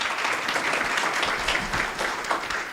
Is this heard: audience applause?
yes